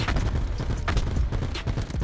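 Rapid-fire gunfire from an online shooter video game, a dense run of quick shots and impacts filling the short stretch, close and loud with no talk over it.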